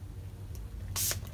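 Spray bottle misting water onto an embossing folder for card making, one short hissing burst close by against a quiet background.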